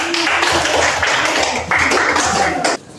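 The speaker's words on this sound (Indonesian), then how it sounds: "Kita berikan aplaus bagi mereka." Classroom audience claps for a student group after their presentation, a dense burst of applause that runs steadily for a few seconds and then cuts off abruptly.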